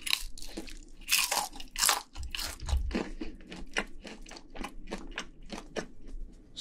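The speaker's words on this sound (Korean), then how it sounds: "허니버터 갈릭스 치킨, 그리고 시크릿 양념 치킨, 그리고 치즈볼 먹방" Crunchy fried chicken, honey butter garlic and secret sauce varieties, being bitten and chewed up close in a mukbang, with loud repeated crisp crunches in a steady chewing rhythm and no talking.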